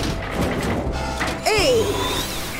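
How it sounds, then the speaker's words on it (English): A toy drill whirs briefly, a short mechanical ratcheting burst with a rising and falling whine after a clunk, loud and close. "Let's test the drill."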